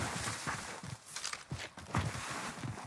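Soft, quick footsteps crunching in the Call of Duty Warzone Caldera video game, an irregular run of faint steps over a low ambient background.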